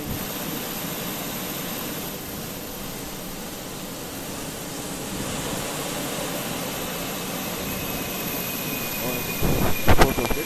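Boeing 737-800 jet engine whining and rumbling steadily on the ground nearby, a broad constant roar that rises slightly toward the end with a few sharp clicks and bumps.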